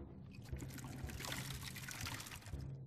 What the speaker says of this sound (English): I like to refill my water first.